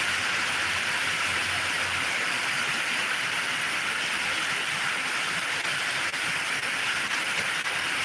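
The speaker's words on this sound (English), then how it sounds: "Rain sounds are supposed to be calm and soothing." Rain sounds played through car speakers, a loud, steady broadband hiss like heavy rainfall filling the cabin, constant throughout with no talking.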